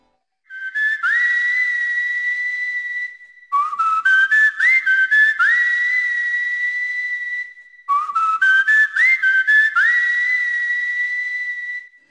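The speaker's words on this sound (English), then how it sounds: "it whistles, and this is a wood instrument that's blowing air through holes" A wooden wind instrument in the Samorost 3 video game whistles clear, bright note sequences in three loud, close phrases. Each phrase holds a sustained tone, with quick stepped notes between the phrases and no talking.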